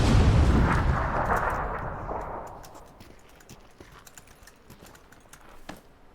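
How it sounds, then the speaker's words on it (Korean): A grenade blast in PUBG booms loudly at the start, its rumbling roar decaying over a few seconds into quiet, followed by scattered keyboard and mouse clicks. "아, 수류탄 올라왔다"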